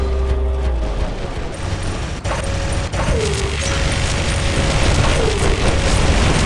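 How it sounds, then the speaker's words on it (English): Loud, constant gunfire and mechanical clatter pound a player's robot in the War Robots video game, with booming hits and whirring machinery running without a break. "Still being shot at."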